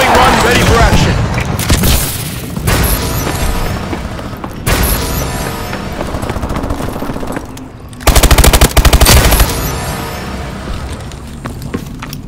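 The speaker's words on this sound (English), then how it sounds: "Friendly bombing run clearing the way." Call of Duty Advanced Warfare team deathmatch: loud, dense bursts of automatic gunfire and booming explosions from a friendly bombing run, with rapid rattling volleys and heavy blasts throughout, under brief game voice callouts.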